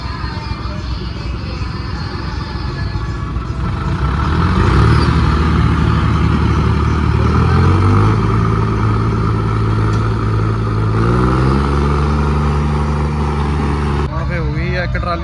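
A farm tractor engine runs nearby with a deep, steady drone that swells louder and shifts pitch partway through as the revs change, while people talk over it.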